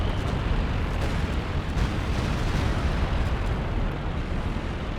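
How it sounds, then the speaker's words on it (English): Dense, continuous rumbling explosions and blasts from indirect fire in the video game Company of Heroes 2, a loud barrage of booms layered over each other with no pauses and no talking. "So many explosions."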